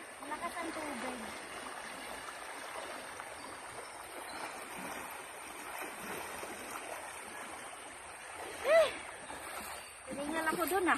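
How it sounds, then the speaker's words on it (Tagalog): Steady rushing water of a strong river current runs throughout at moderate level, a continuous broadband wash with occasional splashes, while people talk intermittently nearby. "Malakas ang tubig."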